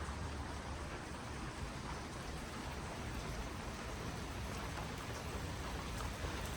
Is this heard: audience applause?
no